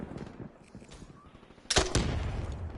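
In a shooter video game, a few sharp gunshots crack faintly at first, then a loud grenade blast bursts and a rumble trails off behind it.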